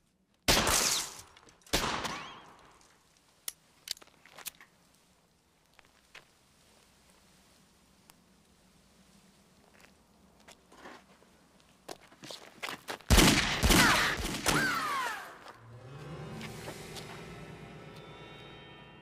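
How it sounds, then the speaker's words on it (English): Gunfire in a film scene, a few loud close bursts of shots at the start, scattered cracks and clatter through a quieter stretch, then a heavy loud volley near the end. "Shooting at me with their own sodding guns"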